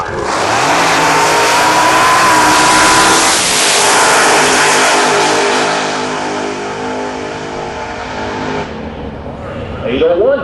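A funny car drag racer with a big Thunderbird body revs its engine loudly during a burnout, a dense roaring blast that holds for several seconds then drops away into the track background with voices nearby.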